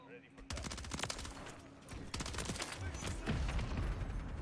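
Rapid bursts of SMG gunfire come from a video game, with dense, sustained automatic fire and sharp repeated cracks that stay loud and close across the whole stretch.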